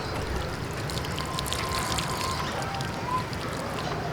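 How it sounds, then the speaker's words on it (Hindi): Water poured onto soil over freshly sown coriander seeds in a pot, a steady close trickle and splash running continuously with no talk. "ये मैंने पानी इतना दे दिया है,"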